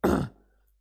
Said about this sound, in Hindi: खांसी आने लगी